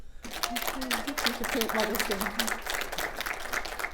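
Clapping from an audience at a film Q&A in London, a dense burst of many hands under a voice talking over it throughout.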